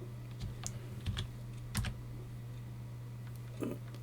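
Keyboard typing on a computer while working in Photoshop, a few sparse, soft key clicks spread across a quiet room over a steady low hum, with no talking.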